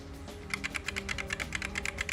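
Rapid, evenly spaced clacks from typing on an old PS2 keyboard attached to a retro Pentium 4 computer, about a dozen crisp keystrokes close up over a low steady electrical hum.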